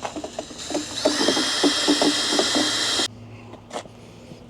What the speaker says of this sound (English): we're going to throw this in our drill